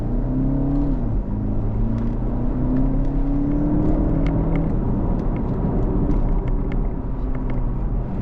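A BMW G60 530e driving along fast country lanes, with a steady engine and tyre drone and road rumble that stays even and close throughout, no talking.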